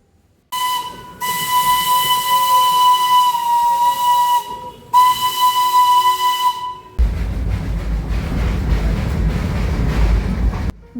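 Steam whistle of the Darjeeling toy train sounds in two long, loud, steady blasts, followed by a burst of loud hissing steam close by.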